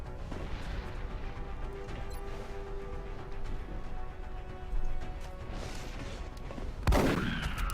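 Shotgun fire from the video game XCOM: Enemy Unknown: a sharp, loud blast near the end stands out over steady in-game rumble and clatter, with a smaller impact just before it.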